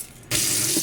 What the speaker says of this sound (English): here we'll wash the rice, and it's very important to wash the rice properly